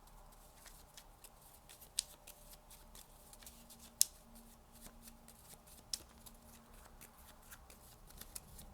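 Tarot cards are shuffled softly and steadily at close range, a faint papery riffle with a few sharper snaps standing out, and no voice over it.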